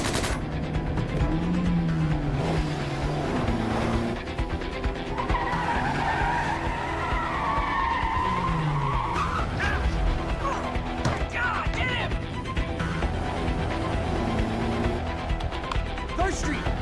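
Tyres skid during a car chase in Quantum Break, with engine roar, screeching and impacts that go on steadily under overlapping voices.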